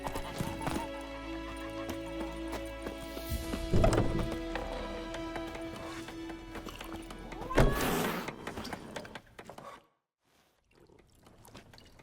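Geralt's horse Roach from The Witcher 3 trotting with a steady clip-clop of hooves and a couple of whinnies, close and clear over game ambience and faint speech, before the sound briefly cuts out near the end.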